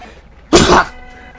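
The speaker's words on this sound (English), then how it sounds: "I gotta sneeze." A single loud sneeze-like burst from a person, about 0.4 seconds long, sharp at the onset and close to the microphone, with a quiet room before and after.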